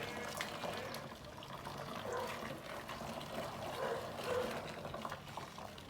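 Running water rinses freshly washed hair, a soft continuous splashing and trickling with small fluctuations, fairly quiet and steady throughout, with no talk.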